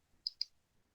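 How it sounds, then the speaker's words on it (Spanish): Two quick, crisp computer mouse clicks sound close and isolated in near silence, a fraction of a second apart. "damos clic otra vez en editar citación"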